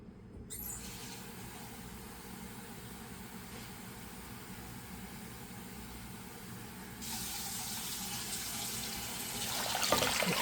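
Water, five cups measured for making chhana kalojam sweets, pours steadily into a pot, a soft continuous splash that grows louder and brighter toward the end.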